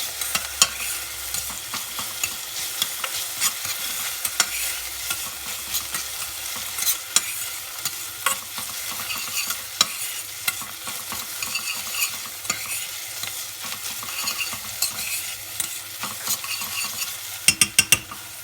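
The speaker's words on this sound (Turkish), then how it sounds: "Güzelce onu da kavuruyorum" Onions and chopped green peppers sizzling in a hot pan while a utensil stirs and scrapes, with a few sharp clicks near the end; steady and close.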